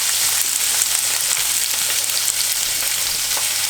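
Bacon and onions cut into large chunks fry in a pan, producing a loud, dense, continuous sizzle that stays even throughout.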